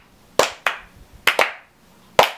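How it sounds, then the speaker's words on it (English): A slow clap: five sharp, close hand claps spaced unevenly, with a brief double clap in the middle, each one loud and crisp against near silence. "Just slow clap it out."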